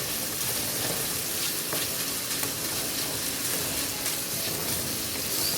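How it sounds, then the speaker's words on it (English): Bacon frying in a pan gives a steady, dense sizzle that fills the whole clip with no talking. "your bacon. And then you just fry until"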